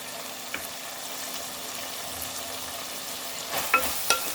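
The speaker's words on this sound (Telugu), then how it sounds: "ఒకసారి కారం పొడి వేసుకున్నాక అన్నీ కలిసేలాగా కలిపేసుకుందాము" Chilli powder stirred into sambar in a pan over a medium flame, a steady gentle sizzle with a few sharper scraping clacks from the spoon toward the end.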